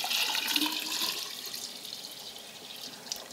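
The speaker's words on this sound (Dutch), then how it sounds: "ik kan dat water hier bijvoorbeeld op dat gescheurd beton gaan gieten" Water poured onto a cracked concrete test piece gives a steady, hissing splash that fades slightly over a few seconds, close and continuous with no talking.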